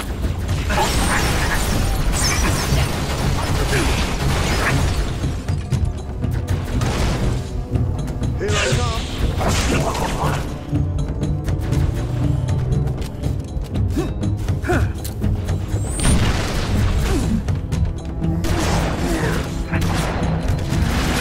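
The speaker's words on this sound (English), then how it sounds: "That's a fuel rod gun." Fuel rod gun fire and explosions in the Halo Reach campaign at Oni Sword Base, a dense, continuous wall of booms, bursts and mechanical clatter with no break.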